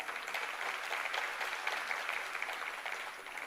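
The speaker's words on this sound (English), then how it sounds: "Let's give everyone a round of applause." Graduates of the class of 2024 at a mayoral matric awards ceremony receive sustained audience applause, a steady wash of many hands clapping at moderate distance, fairly quiet and even throughout with no voices over it.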